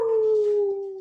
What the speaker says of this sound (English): I don't know why she keeps howling.